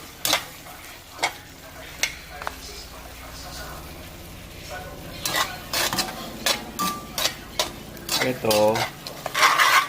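Pork adobo stirred in a pan over strong heat, with a soft sizzle under repeated metal spoon clanks and scrapes against the pan, sparse at first and then quick and rhythmic, and a voice speaking briefly.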